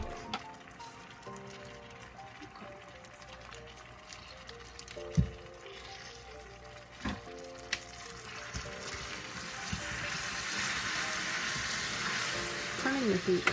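Steady sizzling and frying in a pan while caramel cooks for brownies, with occasional stirring clinks and scrapes, growing louder and brighter toward the end; little or no talk.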